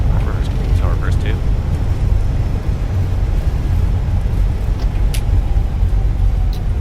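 Fenix A320 reverse thrust in a flight simulator during landing rollout: a deep, steady broadband jet roar fills the whole stretch at constant loudness, with a voice speaking now and then over it.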